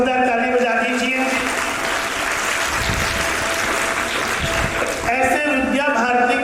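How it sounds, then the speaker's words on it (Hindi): A crowd at a children's summer camp event claps loudly and steadily for several seconds, with a voice talking over the applause at the start and end. "तो एक बार अपने 2 भैयाओं के लिए भी जोरदार ताली बजा दीजिए।"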